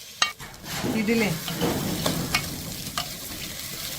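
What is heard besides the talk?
stirring roasted vermicelli mixture in a pan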